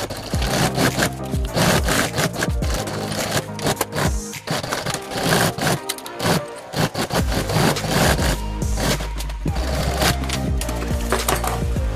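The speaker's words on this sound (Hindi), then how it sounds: "और सिलाई कर लेंगे।" A sewing machine stitches a travel bag, with loud, close mechanical whirring and clattering bursts that start and stop repeatedly as the fabric is fed through.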